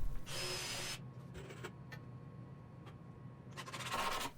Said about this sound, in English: I'm pre-drilling the top just so the wood doesn't crack at all.